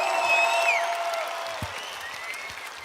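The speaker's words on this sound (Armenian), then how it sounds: "Խնդրում եմ մի հատ բուռը ծափերով նախագահ Մակրոնին ողջունել։" A crowd in Gyumri applauds to welcome French President Macron, a steady wash of clapping that swells at first and then gradually thins, with a few faint voices mixed in.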